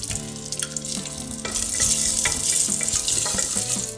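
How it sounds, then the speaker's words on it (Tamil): Cashews frying in a little ghee inside a pressure cooker for coconut rice, a steady close sizzle with scattered clinks and scrapes from stirring throughout. "நெய் ஊற்றிட்டு முந்திரி வந்து வறுத்து எடுத்துக்கலாம்"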